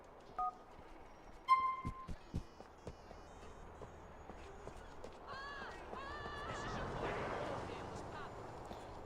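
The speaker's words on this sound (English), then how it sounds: "Griffin, pull up your phone and dial" Phone keypad dialing in GTA IV, a few short button tones near the start, followed by brief thumps and a steady rumble of in-game sounds with rising tonal effects.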